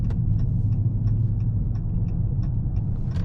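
Heard from inside the cabin, a 2022 Dodge Charger ScatPack drives in traffic. Its low engine rumble holds steady, and a turn signal ticks in an even rhythm over it.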